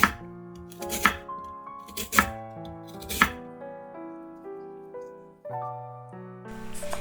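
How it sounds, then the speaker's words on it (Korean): A kitchen knife cuts lotus root into thin strips on a cutting board, with sharp, close chops landing roughly once a second, each leaving a ringing tone behind it. "연근채는 얇게 썰어 주세요"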